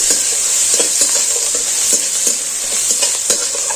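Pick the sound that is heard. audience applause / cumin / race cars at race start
cumin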